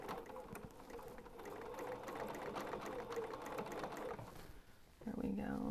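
A sewing machine stitches a doll panel close by, running a steady rapid whirring patter for several seconds; a short pause follows, then it starts again with a brighter hum.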